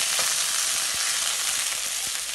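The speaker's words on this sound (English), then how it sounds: "I'm just going to saute this for maybe about 1 minute, not too long." Garlic and thyme sauteing in a pan for a Jamaican salt mackerel rundown, a steady close sizzle and crackle of frying with small spattering pops throughout and no talking.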